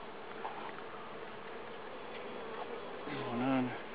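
Honeybees buzz around an opened hive during an inspection, a faint continuous hum with one bee droning louder and closer as it passes near the end.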